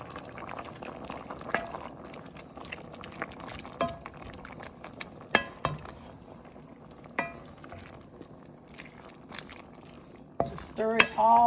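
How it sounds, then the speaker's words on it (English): Pepper steak and gravy are stirred in a pan, with a spoon scraping and clinking against the metal at irregular moments over a soft sizzle and bubbling, growing busier toward the end. "Stir it all together."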